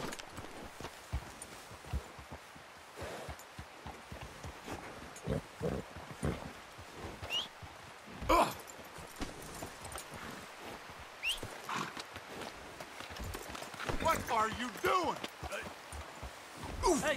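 Rapid hoofbeats of a galloping horse patter throughout in the video game Red Dead Redemption 2, with shouted voices and bursts of game sound mixed over the top.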